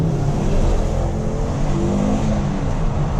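A 2010 Ford Focus RS engine roars steadily as the car accelerates hard, loud and close, with a continuous rising drone.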